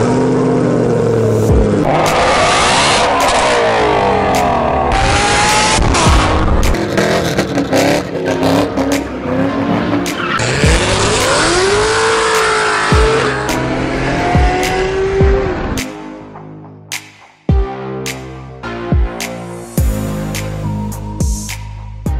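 A Chevy SS with an LSA engine, tuned toward 800-plus horsepower, starts up and revs hard. Loud rising and falling engine sweeps and sharp pops stay close, then settle into a rough idle.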